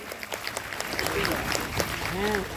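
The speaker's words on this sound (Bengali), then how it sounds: "আশা করি সবাই মিলে পাপুর জন্য জোরে হাততালি।" An audience applauds at a stage event honouring a local artist, with steady clapping mixed with crowd voices and a speaker talking over it.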